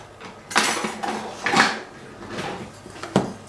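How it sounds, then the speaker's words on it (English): A wooden spoon is pulled from a kitchen drawer amid several sharp clatters and knocks of utensils and wood, with short bursts spaced through a quiet room. "And then get a wooden spoon."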